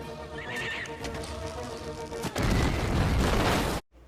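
A horse in the 1998 low-budget film Bug Buster whinnies loudly, then a sudden burst of noisy galloping hoofbeats takes over before cutting off abruptly.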